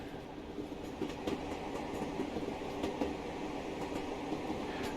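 Class 50 diesel locomotive accelerating in Train Simulator Classic on the Edinburgh Waverley to Dundee run, a steady loud rumbling drone with rhythmic rail clicks throughout.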